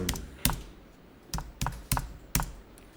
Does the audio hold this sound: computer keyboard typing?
yes